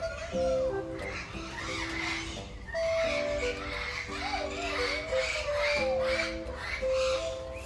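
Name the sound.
bird squawking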